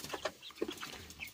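Chickens cluck softly in short scattered bursts, faint and close, with no talking.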